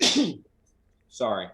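A single sharp sneeze bursts out up close, followed after a short pause by a person speaking briefly.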